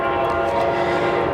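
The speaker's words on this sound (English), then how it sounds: "And you can hear the Brightline train. That engineer is just honking his horn" A Brightline train sounds its horn near a crossing in downtown Melbourne, a loud, steady, sustained blast close by that fills the whole moment without voices.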